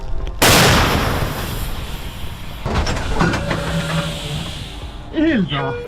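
A 152 mm Akatsiya howitzer fires: a loud, sharp blast suddenly bursts out, then a rumbling roar slowly fades, with rattling and clanks after it. A voice briefly speaks near the end.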